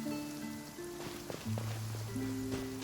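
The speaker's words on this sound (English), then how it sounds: "it does actually rain in the desert on occasion. And when it does, it's always a lot heavier than this" Rain falling in the desert in the video game Genshin Impact, a soft, steady patter of drops layered under sustained musical tones from the game.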